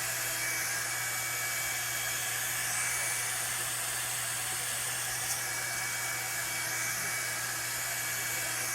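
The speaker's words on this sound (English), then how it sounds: "Usually if your blow dryer is super duper hot, you can't do that." Blow dryer drying hair, a steady unbroken whooshing roar with airy hiss and a low motor hum, close and loud throughout, alone with no talking.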